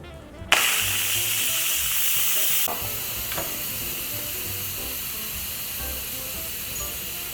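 Steam releasing through the lever of an 8-quart Instant Pot pressure cooker holding broccoli: a sudden loud hiss bursts out, roars steadily for about two seconds, then settles into a softer continuous hiss.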